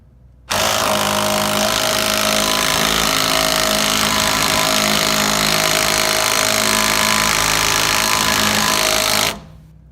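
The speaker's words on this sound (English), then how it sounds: "So we're gonna hammer down and see if we can get it off." A loud, continuous mechanical hammering rattle on a vehicle's track bar bolt runs steadily for about nine seconds, close by, then stops abruptly.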